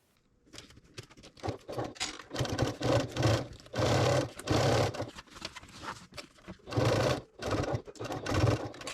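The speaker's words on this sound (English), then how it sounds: "Then we're going to our sewing machine next, and we're going to stitch a 3/8 inch seam allowance" A sewing machine stitches a 3/8 inch seam allowance on a zippered tote bag, running in several bursts of rapid mechanical whirring separated by short pauses, close and fairly loud with no talking.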